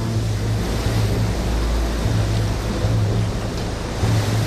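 Atlantic ocean waves and surf churned up by a storm make a loud, continuous roar of breaking water, with wind rumbling low beneath it throughout.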